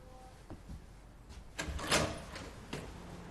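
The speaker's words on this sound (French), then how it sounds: "Je vais ouvrir la porte." A door opens in an indoor domestic setting, with a few soft knocks and clicks followed by a louder swishing burst of movement near the middle and a short sharp click near the end.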